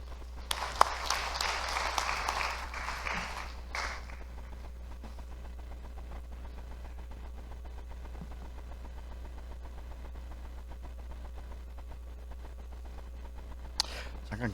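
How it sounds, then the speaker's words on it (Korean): A church congregation at a Korean Presbyterian revival meeting applauds to welcome the pastor, a warm burst of clapping lasting a few seconds before it stops, leaving a quiet room with a low steady hum and a brief sound near the end. "박수로 맞이해 주십시오."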